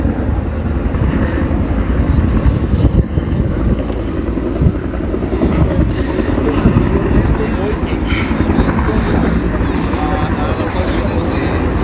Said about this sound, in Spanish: Ya se vienen acercando los helicópteros.